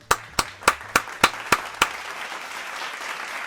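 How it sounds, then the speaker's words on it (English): Seven sharp, evenly spaced claps ring out close and alone, like a small round of applause, then fade into a quiet room. "Let's give them all a round of applause."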